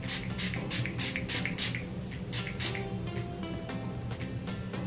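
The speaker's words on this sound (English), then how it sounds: "I'm just gonna spray my skin with this" A fine face mist sprayer hisses onto skin in a run of quick short pumps, about a dozen spritzes in uneven rhythm over a low steady hum.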